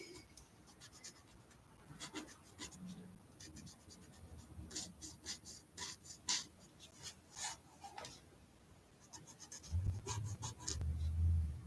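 A pen or marker scratches softly over a paper card while leaves are colored in and shaded, quiet repeated strokes in a steady back-and-forth rhythm, with a low rumble near the end.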